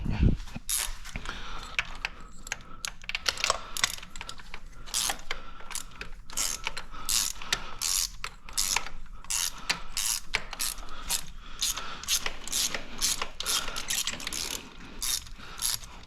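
A ratchet with a flex socket removes spark plugs from a BMW N55 engine in a 435i, giving long runs of rapid, sharp clicking close up with brief pauses between strokes and no talking.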